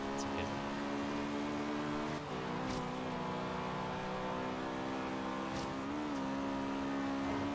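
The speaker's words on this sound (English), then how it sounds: "At least the Integra sounds nice." A Honda Integra revs in the racing video game Forza Horizon 3, holding a steady engine whine with brief dips as gears shift, moderately loud under faint voices.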